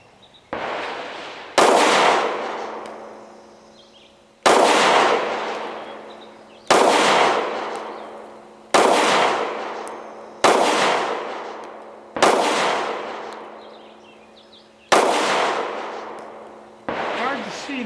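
Steel-cased Magtech 9mm rounds fired from a Ruger EC9S subcompact pistol outdoors: eight loud, sharp shots spaced a second or two apart, each with a long ringing decay, no talking.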